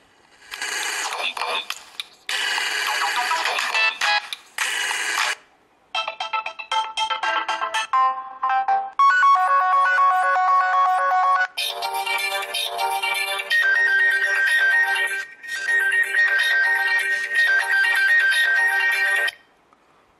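Ringtone playing through the single bottom loudspeaker of a Moto G 3rd generation phone: loud, bright tinny melodic chimes and buzzy synth patterns in several bursts with short gaps, heard close up.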